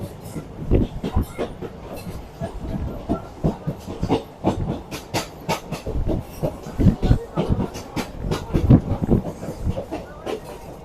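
A train pulls into Sevoke railway station in the hills of West Bengal, its wheels clattering loudly and unevenly over the track joints, with hissing and rumble throughout and faint voices beneath.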